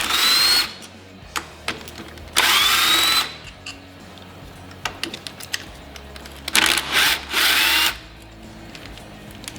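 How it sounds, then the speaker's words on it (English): A power tool whirs in three short, loud bursts as it unbolts the handlebar top clamp on a 2015 Harley Davidson Road Glide, with quiet metallic handling clicks in the gaps between bursts. "Now we're going to unbolt our top clamp here and pull it all off."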